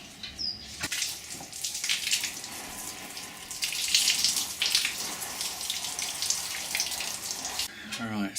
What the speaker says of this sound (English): Water's on.